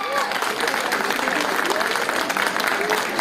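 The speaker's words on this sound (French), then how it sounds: "Super applaudissements pour Marie-Hélène Amiable" An audience at an Indian trade fair claps in sustained, dense applause, with voices talking faintly beneath the clapping.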